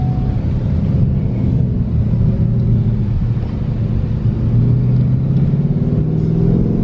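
A 2020 Ford Mustang GT accelerating hard toward 60 mph, heard from inside the cabin: a loud, steady deep engine roar with rising pitch that keeps building throughout, and one brief exclamation from the driver over it.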